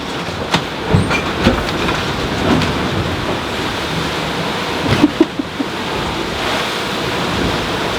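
Big ocean swells rushing against a sailboat under strong wind on a passage from Cascais to Madeira, a constant loud roar of water with occasional thumps and knocks, no talk.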